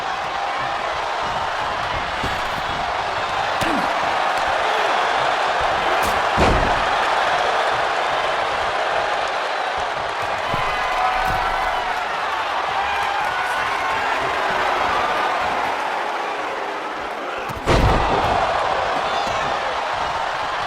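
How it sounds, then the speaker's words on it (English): A Samoan drop body slam lands in a WWE 2K24 wrestling match, heard as a sharp thud amid steady arena crowd noise, with a second heavy impact later over the continuous roar. "He mounts a comeback and lands a Samoan drop."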